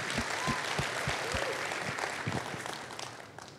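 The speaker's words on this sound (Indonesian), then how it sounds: "Ya berikan tepuk tangan yuk buat Tuhan Yesus ya." A church congregation claps during a service, scattered and fairly faint applause with several sharp individual claps standing out early, fading toward the end beneath a soft background murmur.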